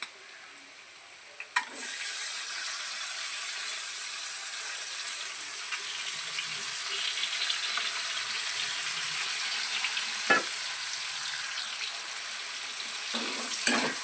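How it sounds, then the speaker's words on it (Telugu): Dried fish sizzling in hot oil that was just used for frying eggs, a steady broadband crackle and hiss with occasional louder pops and spits, no talking. "ఇదే ఆయిల్లో మనం కడిగి శుభ్రం చేసుకున్న ఎండుమెత్తల్ని వేయాలండి"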